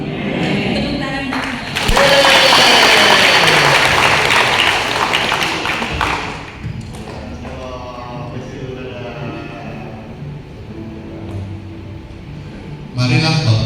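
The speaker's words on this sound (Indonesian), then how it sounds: "Tepuk tangan." Loud congregational clapping fills a church worship service, swelling suddenly, holding steady for several seconds, then thinning out before a brief final burst near the end.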